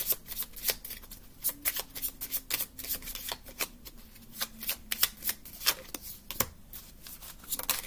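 Small deck of tarot cards being shuffled by hand, a close series of quick papery riffles and flicks in an uneven rhythm, fairly quiet, with no talking over it.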